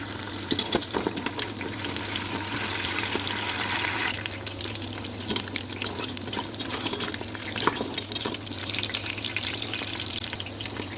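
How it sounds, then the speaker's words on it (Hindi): Steady, close sizzling of mutton trotters frying in hot oil in a pressure cooker, with occasional light clatter as they are stirred, continuing without pause. "आप कुकर के अंदर ऑयल डालकर गरम करेंगे और 2 से 3 मिनट पाए भूनेंगे"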